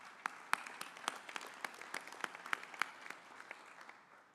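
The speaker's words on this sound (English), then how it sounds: "I would just like to give a round of applause for those members" Audience at a US Coast Guard Auxiliary national conference applauds members, a steady patter of many hands clapping with a few sharper nearby claps, moderately distant and without speech.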